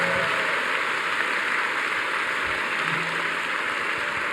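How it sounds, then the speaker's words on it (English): Applause from a live audience at a Q&A evening event, a steady, even hiss of many hands clapping throughout, fairly loud and continuous with no clear speech over it. "Everyone give him a big round of applause."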